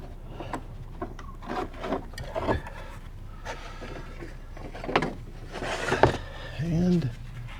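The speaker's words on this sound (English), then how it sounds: "Now we'll try to wrangle the belt out of there." Worn drive belt being worked off the pulleys of a 2011 Mini Countryman engine: close, irregular rubbing, scraping and knocking with short bursts of rubber and metal friction, plus a brief squeak near the end.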